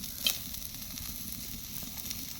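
Goat fat and chicken meat sizzle steadily in a pan, a constant close crackling hiss with a brief sharper spatter near the start, no voices.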